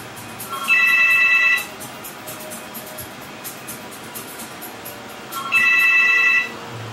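A telephone rings twice in a quiet room, each ring a bright electronic trill lasting about a second with a long pause between, heard alone against faint background hiss during a PC graphics benchmark session.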